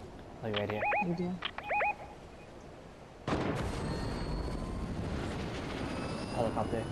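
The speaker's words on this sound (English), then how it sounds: "Helicopter." Fortnite game music with harmonic tones under talk, then a broad rumbling helicopter engine roar takes over and continues steadily.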